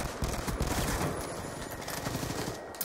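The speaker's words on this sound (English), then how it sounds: "that guy sprayed me down with MSMC" Rapid bursts of MSMC submachine gun fire in a first-person shooter video game, a dense crackling stream of shots at moderate volume with no talk over it.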